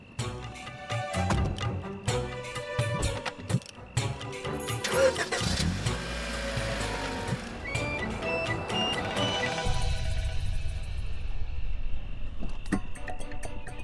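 A repaired car engine cranks and starts, then idles steadily for a long stretch alongside clattering workshop noise and a rising whine, fairly loud and close with no voices.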